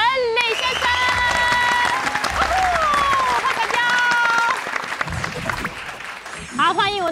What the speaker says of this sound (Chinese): 我们用热情掌声欢迎今天委托人李先生